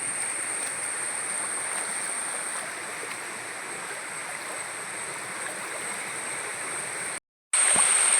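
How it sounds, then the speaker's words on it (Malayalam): A small forest stream flows steadily past, a close, even rush of water that fills the scene, broken by a brief cut near the end, with no voices. "ഈ അരുവി ഒഴുകി പോകുന്നത്"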